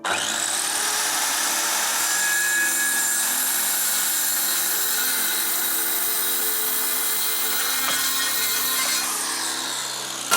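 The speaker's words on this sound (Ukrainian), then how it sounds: "Запускаємо пилу." A power saw whines loudly and continuously as it cuts through a wooden beam for a greenhouse, close by, with the pitch shifting slightly near the end of the cut.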